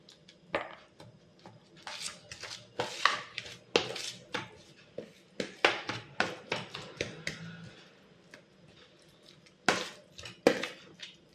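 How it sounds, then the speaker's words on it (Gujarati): Avocado toast ingredients mixed with lemon juice in a bowl, heard as a close series of spoon taps, clinks and scrapes against the bowl in irregular bursts. "એક એક ચમચી જેટલો આપણે લેમન જ્યુસ એડ કરીશું અને પછી બધી જ સામગ્રીને આપણે સરસ મજાની રીતે મિક્સ કરી લઈશું"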